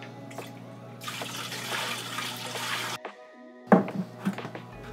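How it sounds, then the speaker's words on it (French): Seven litres of water pour into a glycol pack, a steady splashing stream that stops abruptly, followed by a few hollow drips and knocks. "Et on va rajouter notre 7 litres d'eau."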